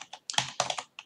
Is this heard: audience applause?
no